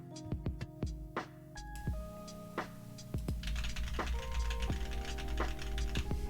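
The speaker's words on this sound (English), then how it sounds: "so you can actually hear the keyboard sounds" Keys clatter on a custom wireless Reviung41 keyboard, sharp clicky strokes coming in irregular bursts close to the mic, sparse at first and then quicker and denser.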